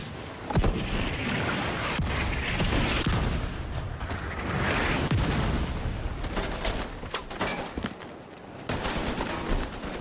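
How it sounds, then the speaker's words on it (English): A mortar strike lands in a video game amid dense, continuous battle noise, with loud overlapping blasts and gunfire crackle close up. "Mortar, now!"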